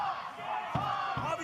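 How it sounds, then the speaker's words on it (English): Wrestling crowd at an independent show chanting in unison, a loud massed roar of voices with rhythmic swells throughout. "the crowd's chanting Tommy sucks here"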